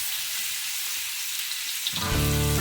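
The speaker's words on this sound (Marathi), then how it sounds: "मी इथे तेलामध्ये भरपूर असा लसूण घातलेला आहे" Plenty of garlic sizzles in oil in a pan for a Surmai fish fry, a steady close hiss of frying that carries on without a break, with a tonal hum joining near the end.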